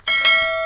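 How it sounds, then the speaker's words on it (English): A notification bell sound effect chimes once, bright and ringing with a sharp onset, held briefly at a steady loudness and heard alone. "hit the notification bell"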